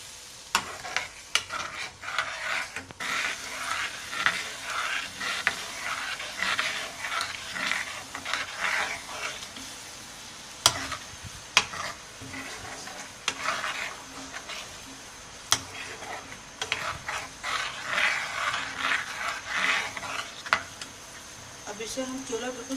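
Pizza sauce simmering in a pan over low heat on a stovetop, giving a steady soft sizzle and bubbling with occasional stirring scrapes and light clicks, close by and fairly quiet throughout.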